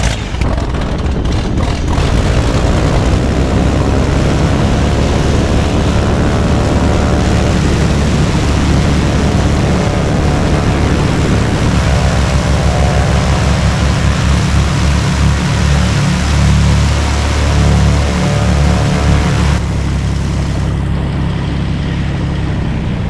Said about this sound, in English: we're taxiing out of John Wayne Airport out of ACI North